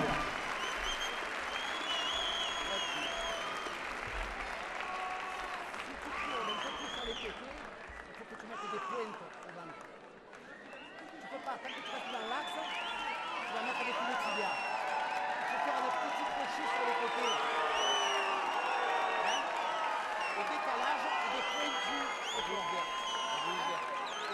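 Sustained applause from an audience at a French martial-arts or combat bout, Jennifer Trioreau against Asma Ben Amor, after the first round; dense steady clapping dips briefly midway, then swells again with scattered cheers and voices in the crowd.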